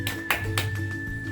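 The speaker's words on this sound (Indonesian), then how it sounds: "tepuk tangan buat Nak Ida" A small classroom group claps for a student in a few sparse, separate claps, about three distinct hits over a steady background hum.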